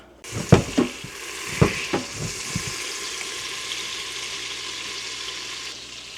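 Venison tenderloin cut in two and sautéing in a pan, opening with several sharp clattering knocks and scrapes that give way to a steady, moderate sizzle.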